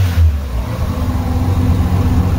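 Greddy Type S blow-off valve on a Mazda FD RX-7, a short burst of released pressure over a loud, rumbling rotary engine that keeps running close by, with no speech.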